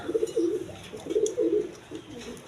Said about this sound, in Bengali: এই দেখেন মাদি কবুতর